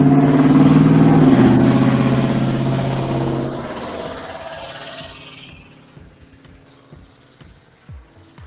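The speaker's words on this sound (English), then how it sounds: "extremely loud exhaust on his old 72 Ford pickup that just went by" An old 1972 Ford pickup with an extremely loud exhaust passes close by, its engine roaring and rumbling, then fading away over several seconds into quiet background with faint crickets.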